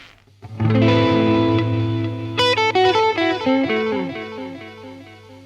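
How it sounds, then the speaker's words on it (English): UAD Echoplex tape echo emulation, modelled on a nearly new old-stock unit with fresh tape, plays a sustained low drone with repeated plucked notes whose echoes step downward and pile up in a clear, loud cascade of repeats. "this emulation is actually almost a brand new old stock Echoplex with a brand new tape"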